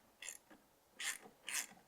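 A bolt threaded down on a car transmission mount makes quiet ratcheting clicks, three or four short metallic bursts in a rhythmic sequence, close and faint.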